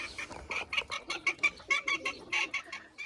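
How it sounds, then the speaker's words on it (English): Chickens cluck and chatter busily close by, a dense flurry of short squawky calls overlapping with no pauses. "So you guys can see I got my chickens in now."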